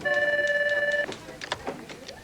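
An office telephone rings with a steady electronic trill for about a second, then stops, followed by faint clicks and soft background office sounds.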